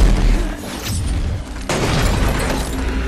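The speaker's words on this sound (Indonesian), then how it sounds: "meminta Liz menghancurkan tower air yang ada di dekat motel lalu menghantam bongkahan kayu" Film explosion of a water tower beside a motel in Next (2007): a loud, continuous roaring blast with crashing debris, a sharp fresh burst partway through, dense and close with no talk.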